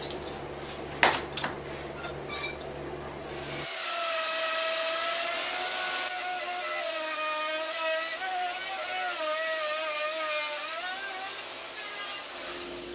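Router cutting cavities into a sheet of birch plywood on a workshop table, starting with a few sharp knocks and clatter, then a loud, steady whining cut with a wavering pitch that runs to the end.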